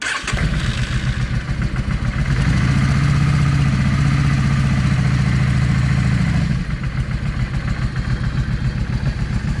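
A Yamaha 650 V Star motorcycle engine runs close by during carburetor syncing, a steady throbbing idle that rises briefly in the middle and then settles back, no voices.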